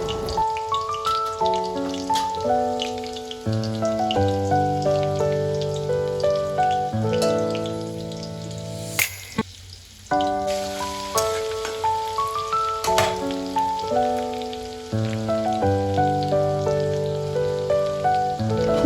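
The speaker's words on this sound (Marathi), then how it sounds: "जिरे लसूण चांगले परतवून झाल्यावर" Crushed cumin, garlic and mustard seeds sauté in hot oil with a steady, rain-like sizzle, partly masked by prominent background music with clear melodic notes throughout.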